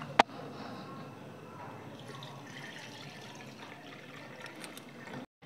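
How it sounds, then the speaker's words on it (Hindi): Water pours steadily into a vessel during a Lakshmi puja for Diwali, a continuous soft trickle and splash that lasts several seconds and ends with a sharp knock. "पानी से इसको भर दीजिए।"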